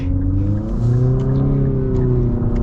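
A 2024 Infiniti QX55 with a CVT transmission revs loudly and steadily up close, its engine tone climbing and holding in smooth stepped surges with no talking over it.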